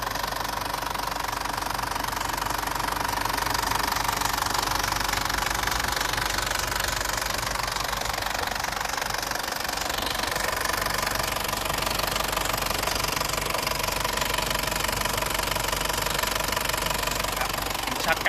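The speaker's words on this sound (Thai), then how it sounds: "ครับให้ฟัง ชัด ๆ เลยเสียงเครื่องแบบนิ่ม ๆ" An Isuzu Adventure 3.0 diesel 4x4 SUV engine idles steadily up close, a continuous clattering rumble with no pauses.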